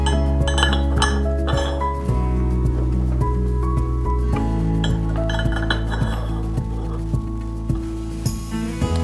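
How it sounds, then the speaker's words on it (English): Metal clips are pushed into the aluminium channel of a commercial glass balustrade, giving a series of sharp clinks and taps over a steady background hum and music bed. "To fix the glass, simply insert these clips."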